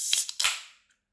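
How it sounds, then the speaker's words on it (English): A bowed can of Modern Times Alien Radio, an 8% hazy Citra DIPA, cracks open with a sharp burst and a hissing fizz that fades away within a second, heard alone and up close. "Bit of fizz, a little bit of smoke there."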